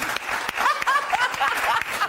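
Studio audience applause on a TV chat show, a short burst of clapping with some chuckling and a voice briefly over it.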